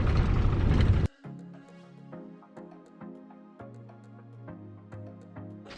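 A car crawling slowly over a rough, bumpy dirt road near Utah's salt flats, with repeated knocks, creaks and rattles over a steady low engine rumble after a loud burst of wind noise at the start.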